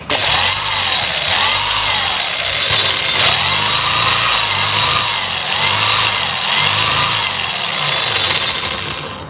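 Makita HR3850 rotary hammer under repair for failing to hammer, running in hammer drill mode: a loud, steady motor whine with a rhythmic pulsing rattle throughout, close and without talk.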